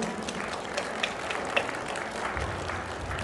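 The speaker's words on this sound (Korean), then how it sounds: "힘찬 박수로 축하해 주시기 바랍니다" An audience applauds at a Korean clan society's general meeting, celebrating newly appointed auditors receiving flowers, with steady, moderately distant clapping throughout.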